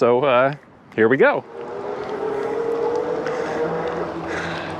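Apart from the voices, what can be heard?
EUNORAU FAT-AWD dual motor electric bike riding, assist level 1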